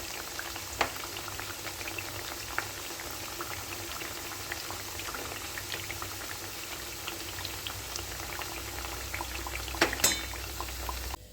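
Palm fruit pieces sizzle steadily in hot oil as they fry, a soft continuous bubbling with occasional faint pops and a brief clatter near the end.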